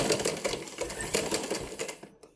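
A sewing machine stitches a buttonhole in folded fabric, its needle tapping in a fast, even rhythm close up before stopping abruptly near the end.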